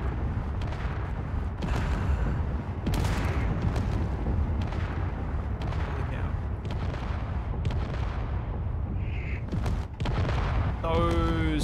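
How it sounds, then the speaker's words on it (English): Rocket blasts boom again and again in a video game, with loud, closely spaced explosions rolling over a constant din; a brief voice is heard at the very end. "Those sound more like rockets."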